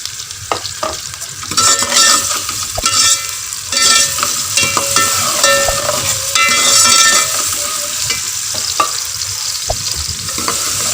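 Finely chopped tomato added to frying onions in a pan, with a steady sizzle and repeated scraping and clinking of a spoon as it is stirred, close and continuous, without talk.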